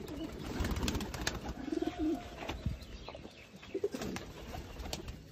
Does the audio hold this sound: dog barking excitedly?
no